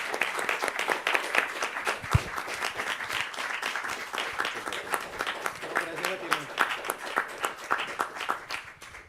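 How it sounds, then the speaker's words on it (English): An audience claps after a talk on decolonizing the climate crisis, a dense, even round of applause that holds for several seconds and then tapers. A voice speaks over it briefly near the middle. "Let's give him a round of applause."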